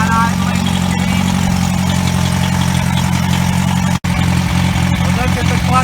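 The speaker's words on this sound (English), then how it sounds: "We're idling with the clutch in." A Massey Harris Pony tractor engine idles with the clutch in, giving a loud, steady low rumble that runs without a break under a brief dropout.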